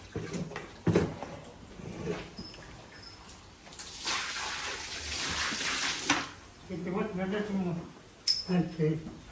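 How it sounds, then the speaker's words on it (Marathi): A bucket scoops water out during rain, with sloshing and a rushing splash of mid loudness in the middle of the stretch, framed by knocks and someone talking nearby. "बादली इथं वतून पाणी काढून घेते"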